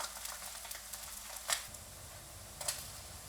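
Spam slices fry in a pan with a faint, steady sizzle and a few soft ticks and clicks of utensils, quiet and close, with no talking.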